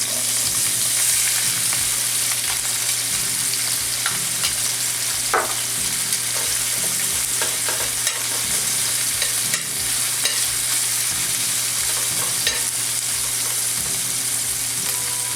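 Shrimp and onions fry loudly in a pan while a spatula stirs and scrapes them, producing a dense continuous sizzle punctuated by occasional knocks, with music faintly in the background.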